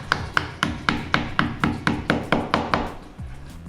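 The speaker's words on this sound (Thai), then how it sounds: "เสร็จแล้วก็ตอกปุ๊กครับ" Plastic wall plugs hammered into drilled holes in a wall, about a dozen sharp, evenly spaced hammer blows in a close, steady rhythm, stopping near the end.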